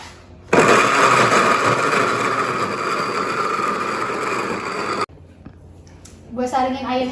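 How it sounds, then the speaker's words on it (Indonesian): A blender whirs loudly and steadily, churning pineapple peels with water for about four and a half seconds, then cuts off abruptly, followed by a brief knock and people starting to talk. "Oke, gue blender ya."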